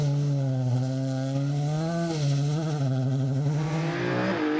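Frank Kelly's Ford Escort rally car on a West Cork Rally stage. The engine sounds close and loud with a strong droning howl, and its pitch climbs and dips through shifts before a final rev.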